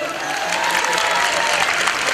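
A short burst of applause sounds throughout, steady dense clapping with no pause, set against a Gang Beasts game session.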